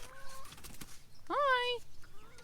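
Backyard chickens on a homestead garden plot give a short, high warbling cluck, faint and close, with a bit of quiet talk before it.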